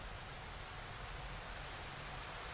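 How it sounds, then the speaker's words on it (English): Rain in the video game Darkwood, a steady even hiss of falling rain that continues without a break. "Yo, it's raining!"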